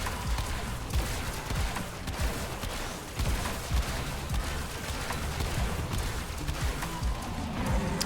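Continuous heavy gunfire aimed at the Eidolon in a video game, dense rapid shots layered into a steady roar that stays loud throughout, with no talking.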